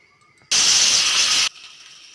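A pressure cooker of chickpeas lets out one loud, close, steady whistle of hissing steam lasting about a second, then drops back to a quiet kitchen background.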